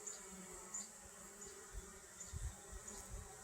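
Honeybees carrying orange pollen buzz faintly around a smoked hive, a soft, continuous drone with a few closer passes swelling briefly near the end.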